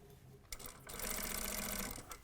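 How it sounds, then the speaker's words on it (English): A sewing machine stitching in a vest's front zipper, a brief click and then a fast, steady whirring run of stitches close by, ending with a small knock. "So when you stitch that in the same colour as the facing,"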